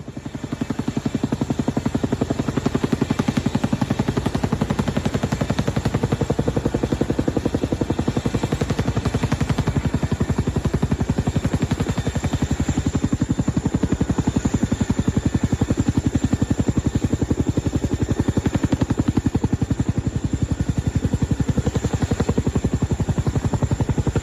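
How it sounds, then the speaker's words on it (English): A helicopter carrying a water dumping device for emergency water delivery keeps up a loud, steady, rapid rotor chop and engine whine for the whole stretch, close and with no voices. "There isn't a challenge that this helicopter can't handle. In this case, it's being used for emergency water delivery with a water dumping device."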